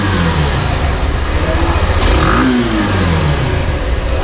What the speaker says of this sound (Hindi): तो काफ़ी पतला एग्जॉस्ट नोट है लेकिन ओवरऑल बोलोगे तो काफ़ी स्मूथ भी है।